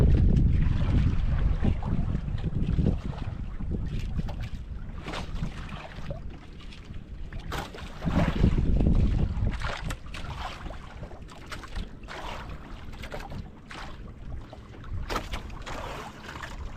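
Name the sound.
wind blowing at sea near boats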